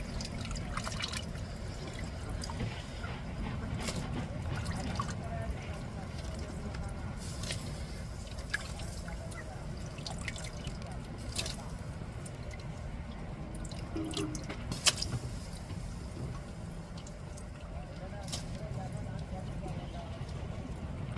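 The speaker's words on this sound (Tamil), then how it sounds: "பாருங்க குழம்பு எப்படி கொதிச்சுட்டு" Sala fish curry boiling in a pot gives soft, irregular bubbling and dripping pops, fairly quiet beneath a person talking throughout.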